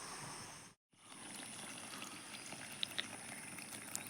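Water from a homemade 200-litre ram pump drum trickles and flows steadily outdoors, faint and continuous, with a brief cutout near the start and a few small drips.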